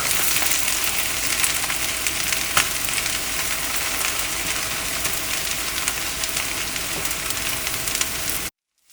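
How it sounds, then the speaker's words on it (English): Steady, dense sizzling of chicken shami kababs frying in a hot pan, continuous and fairly loud throughout, ending abruptly in silence near the end. "the new batch has been put on the frying pan"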